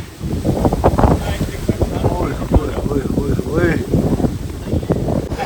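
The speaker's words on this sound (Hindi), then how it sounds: "देखो कितनी तेज़ हवा है" Strong wind gusts buffet the microphone beside Borith Lake in the Pasoo mountains under an overcast sky, a steady rushing roar running beneath close, continuous talking.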